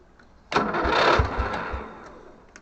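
A Lawn Flite ride-on lawn mower with a solenoid problem cranks over after a long pause: a sudden loud burst of starter churning with rhythmic low thumps, holding for about a second before gradually fading away.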